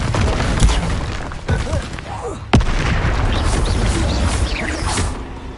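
Incendio fire spell blasts in Hogwarts Legacy, a loud booming burst with a sharp crack midway, dense rumbling combat noise throughout, with a voice calling out over it.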